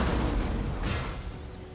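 Napoleonic-era artillery cannons fire in Total War: Napoleon, a dense rumbling wash of booming gunfire with one sharper burst near the middle, loud and continuous.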